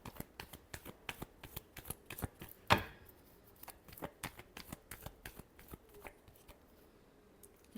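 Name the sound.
shuffling tarot cards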